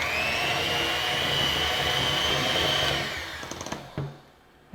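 An electric mixer creaming stained glass cookie dough, a loud steady whirring drone that winds down, followed by a few clicks and knocks as it stops.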